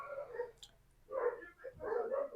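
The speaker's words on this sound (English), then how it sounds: "our neighbors' dogs are too much making noise" Neighbors' dogs give faint, distant yips and whimpers in two or three short bursts, with a soft hum underneath and no talking.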